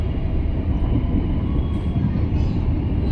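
Locomotive of the Cakrabuana train shunting at Cirebon station, a loud steady rumble of engine and rolling stock close by, continuous for a few seconds.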